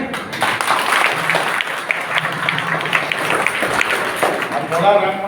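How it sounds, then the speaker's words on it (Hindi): Loud, dense applause from students at a summer camp for PM SHRI schools in Balrampur, Chhattisgarh, a sustained roar of clapping with a voice rising briefly near the end. "तो जोरदार ताली तो बनते"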